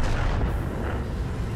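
Loud, booming cannon fire from a KV-2 tank launching a high-explosive shell in World of Tanks, a heavy blast with a dense, rumbling low end that sustains steadily through the moment without voices.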